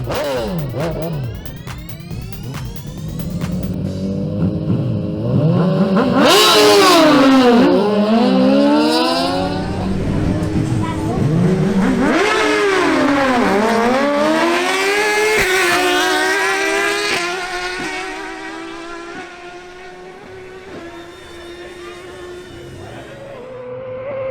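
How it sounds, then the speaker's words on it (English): Two Suzuki GSX-R1000 motorcycles launch in a drag race, engines screaming loud and close as revs climb and drop through quick gear changes, then hold a high sustained whine before easing off. "Edward Manzano on his Suzuki GSX-R1000 faces off against Steven Rivera on his Suzuki GSX-R1000"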